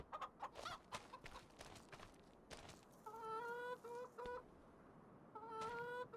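Chickens in the Farming Simulator video game, soft clucks and short warbling calls at low volume, coming in two bursts against faint background noise, with no talking.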